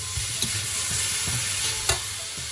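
Broccoli and beef are tossed in a hot pan for a Chinese-style stir-fry, giving a close, steady sizzle broken by a few scraping stirs and one sharper clatter near the end, with nobody speaking.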